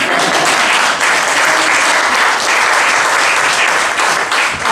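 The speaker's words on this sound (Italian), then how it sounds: "io farei un applauso" Sustained audience applause at a press conference for a Milan film festival, loud and dense throughout without pause, with no speech over it.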